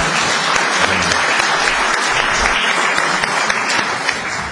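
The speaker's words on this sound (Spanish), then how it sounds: "entonces le damos un aplauso" Audience applause at an international seminar for a speaker from Uruguay, sustained dense clapping at fairly loud level that holds steady and tapers slightly at the end.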